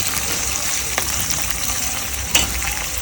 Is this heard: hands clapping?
no